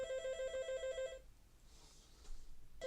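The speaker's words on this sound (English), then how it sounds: "It's the phone. It's Dad's phone." An electronic telephone ring trills steadily for about a second, falls silent, then starts again at the very end, fairly faint against quiet background noise.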